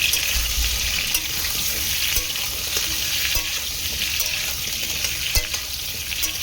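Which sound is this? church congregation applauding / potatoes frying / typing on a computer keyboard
potatoes frying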